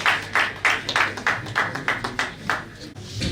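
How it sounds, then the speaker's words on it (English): At an award presentation during an institute inauguration, a small audience claps in a sparse, uneven rhythm of distinct hand claps, moderately close, without talk over it. "A round of applause,"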